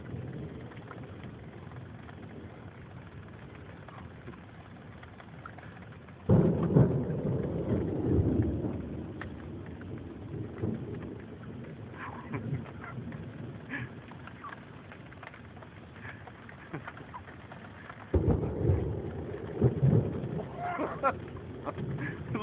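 A thunderstorm with frequent lightning, heard as two deep, loud rumbles of thunder rolling in among quieter stretches of low background noise and light rain patter.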